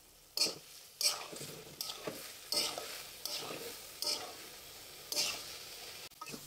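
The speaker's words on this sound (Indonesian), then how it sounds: "Kemudian diaduk supaya tercampur rata." Stirring vegetables in a hot frying pan: a series of scraping strokes about once a second over a steady sizzle, close and fairly quiet, no voices.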